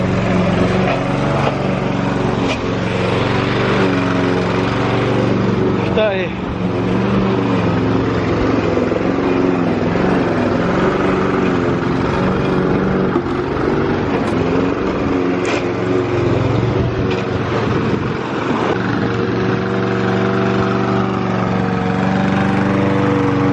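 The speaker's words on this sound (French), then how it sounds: "parce qu'il a entendu la tondeuse démarrer" A lawn mower engine runs continuously with a loud, steady buzzing drone and slight shifts in pitch, close by throughout, while someone speaks a brief word or two near the start.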